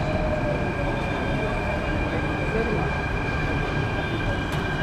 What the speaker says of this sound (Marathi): सो आपली मेट्रो आलेली आहे.